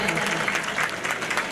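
An audience at a spiritual community gathering breaks into brief, dense applause, a steady burst of many hands clapping together for a moment.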